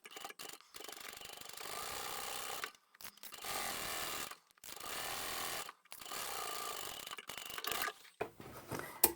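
A sewing machine stitches a French seam on a foldable tote bag in several rapid buzzing bursts of a few seconds each, separated by short pauses, close and fairly loud.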